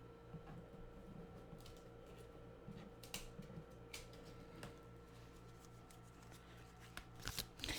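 Tarot cards are shuffled close by, giving a soft, continuous riffling and sliding with small taps and flicks, quiet and without speech.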